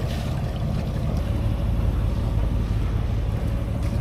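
A sailboat motoring under engine off Baja, Mexico gives a steady low drone, mixed with rushing wind and water noise, continuous and unbroken with no voices.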